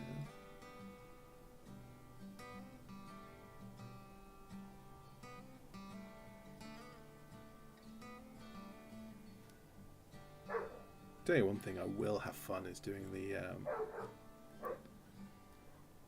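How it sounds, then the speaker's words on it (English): Dogs barking indoors in a home, several sharp yaps and a whimper in a short burst near the end, with someone talking steadily throughout. "dogs please shush."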